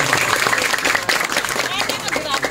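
Audience applause, a dense, loud wash of many hands clapping close by, blended with crowd voices and speech throughout.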